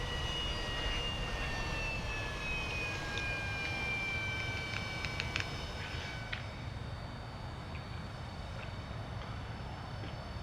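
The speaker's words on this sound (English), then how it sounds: "Kill the engines once you're in line." Aircraft engines in the ArmA 3 game whine at a steady high pitch over a constant low roar, the tone sliding slightly downward and fading out midway, with no talk.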